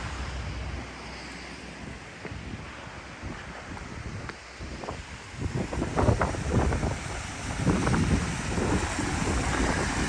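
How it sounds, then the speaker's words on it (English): Steady rushing water with a broad, constant roar, wind buffeting the microphone, and surges that swell louder partway through. "Look at this beautiful waterfall."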